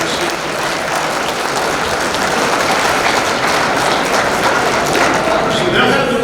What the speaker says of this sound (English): So let's give them a nice round of applause.